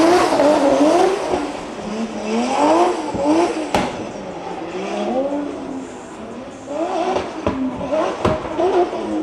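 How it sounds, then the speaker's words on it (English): A drift car at a Drift Masters practice session in Riga revs hard with repeated loud exhaust bangs, the engine note rising and falling in sweeps with sharp pops and cracks over distant track ambience. "very loud bangs from that car."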